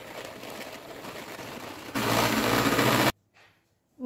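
An electric hand mixer whirs through genoise cake batter in a bowl, a steady buzzing drone that jumps louder and harsher midway, then cuts off abruptly into near silence.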